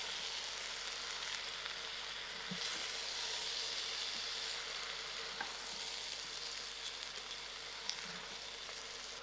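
Spicy lentil soup stirred in a pressure cooker pot, a faint steady sizzle and hiss with light scraping taps now and then, continuing quietly throughout without speech.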